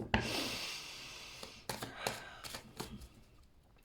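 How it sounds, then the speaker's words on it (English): A tarot deck is shuffled by hand, starting with a quick riffle, then a few soft, separate slaps and rubs of the cards, close and quiet. "So I'm going to shuffle the cards"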